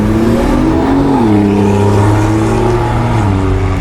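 An old BMW 5 Series at the Nürburgring, its engine droning steadily nearby with a rising and falling pitch as it drives past, loud and continuous with no talk over it.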